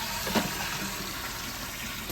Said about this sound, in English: Okay, we're gonna add our water to this.